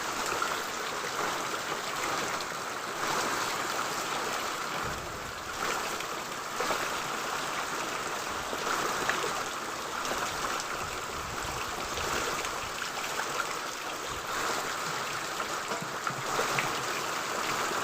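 Heavy rain falls on a farming village, a steady, even wash of water noise with running water filling buckets, continuous and unbroken throughout.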